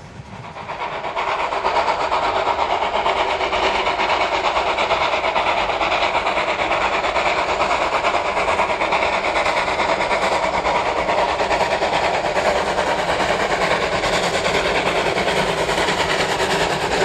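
A museum railway steam locomotive works hard up a long gradient through a cutting, a steady loud continuous roar with rolling rail clatter that builds in the first two seconds and then holds near and constant throughout.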